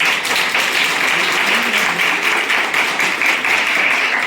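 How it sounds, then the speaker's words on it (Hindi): Enthusiastic applause rises from the audience at a government college in Damua, at a ceremony marking the end of a one-month sewing training course: a loud, dense, unbroken roar of clapping held evenly for over four seconds. "इसलिए मैडम के लिए जोरदार तालियां"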